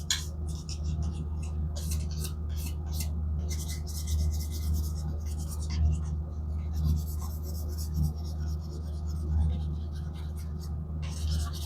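Fine 3000 grit sandpaper rubs against a Hardcastle or Jobey tobacco pipe in steady, rhythmic back-and-forth strokes, a soft close-up rasp over a low background hum.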